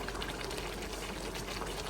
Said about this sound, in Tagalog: Lagyan po ng konting tubig kasi medyo na tutuyo pa siya.